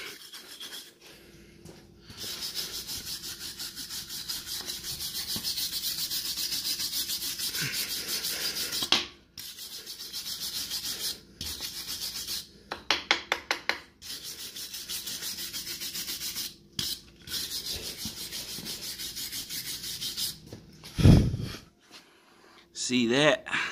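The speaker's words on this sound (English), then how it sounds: "clean up the weld." A weld on a steel axle C-channel is ground clean with an abrasive tool, long continuous rasping passes broken by short pauses and quick bursts, followed by a sharp metallic clank near the end; someone talks over parts of it.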